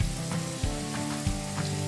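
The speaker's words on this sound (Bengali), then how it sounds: "এই পেঁয়াজ রসুনটা একটু ভালোভাবে ভাজা হোক" Onion and garlic frying with spices in a pan for rajma, giving a steady close sizzle broken by a few soft stirring knocks, with no talking.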